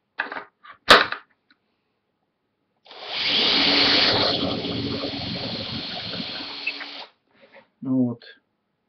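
A power drill bores a hole for about four seconds in one steady, loud burst, with brief clicks and handling noises before and after, and a short spoken remark near the end.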